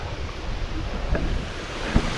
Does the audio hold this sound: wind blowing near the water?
yes